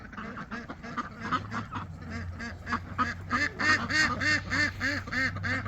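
Ducks and geese on a homestead quack and honk in a dense, overlapping chorus that builds louder and quickens toward the end, close by.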